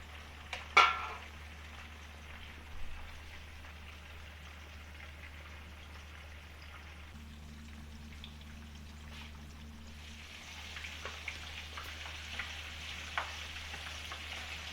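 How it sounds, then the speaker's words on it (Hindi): Fish pieces, already turned over, fry to golden in a pan with a steady, fairly quiet sizzling hiss and a few soft clicks, no talking. "ये फ़िश हमारी फ्राई हो चुकी है, गोल्डन कलर आ गया है इसका, चारों तरफ से फ्राई हो गई है।"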